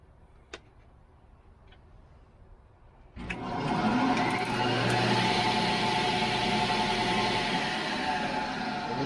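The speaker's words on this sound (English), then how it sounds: "just so you know that the blade is actually spinning" Craftsman 100 table saw with a link V-belt starts up after a quiet stretch with a couple of light ticks, the blade then spinning at full speed as a steady, loud motor hum and whir that carries on to the end.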